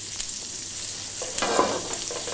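Fish fillets fry skin side down in a pan, giving a steady, close sizzle with a brief louder crackling burst partway through; no voices.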